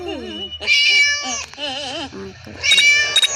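Several drawn-out, wavering meows from a video game cat sound close by in quick succession, with short pauses between them.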